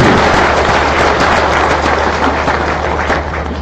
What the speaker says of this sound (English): Please, another round of applause for Professor Sadi.